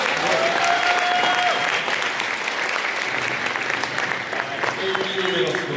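At a school rally and awards ceremony, a large audience gives a sustained round of applause for middle school students, the clapping dense and even with faint whistles and voices mixed in.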